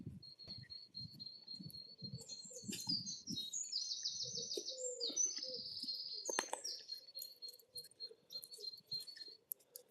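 Birds chirp and tweet outdoors on a sunny, breezy day, with a dense run of high calls and trills, fairly close, alone without talk.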